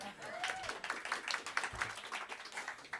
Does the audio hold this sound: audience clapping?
yes